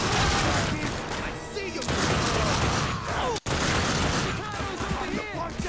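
Dense, continuous gunfire from The Darkness 2 video game, loud and sustained with rapid overlapping shots, broken by one brief silent gap, while a person talks over it.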